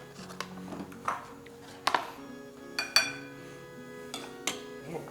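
A spoon scrapes and clinks against a plate while stew is served, several sharp metallic taps and clinks spaced irregularly, quiet and close with no talking.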